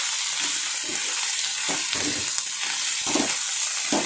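Onions frying together in a pan, a steady broad sizzle with soft scraping stir strokes coming and going, close and continuous with no voice.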